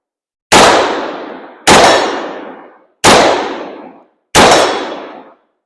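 Four evenly spaced, sharp blasts from a Mini-14 or AR-15 rifle ring out loud and close, each followed by a long decaying ring that suggests steel target hits; no talking.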